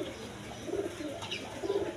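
A pair of Indian Bombay pigeons gives short, low cooing calls close by, two soft murmurs in quick succession over quiet background noise.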